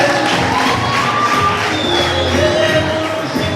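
Applause and ululation at a staged student wedding celebration: a loud, continuous crowd of clapping and cheering, with high trilling calls rising above it.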